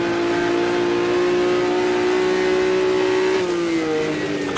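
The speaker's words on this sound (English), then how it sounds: "Running up the rev range." A 1958 Formula One car engine in the racing game Automobilista holds a steady high drone, then drops pitch as it shifts. It is loud and continuous with no talk.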